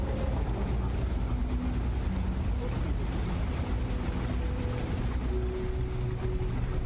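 A waterfall in the video game Starfield rushes as a dense, steady roar that holds at an even level throughout, with faint tonal hums running beneath it.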